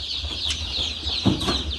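Newly arrived chicks on a chicken farm peep and cluck continuously in a steady high-pitched chorus, with a couple of brief sharper bursts and a faint low hum beneath.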